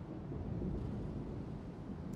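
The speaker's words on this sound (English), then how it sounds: "It sounds a bit like stormy." Stormy weather ambience in Bloodborne: a steady low rumbling roar of wind and distant thunder, fairly faint and continuous throughout.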